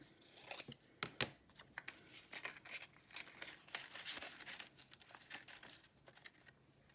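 Scissors trimming paper for a craft shark puppet, a series of close, quiet snips mixed with paper rustling and crinkling, irregular in rhythm and without talk.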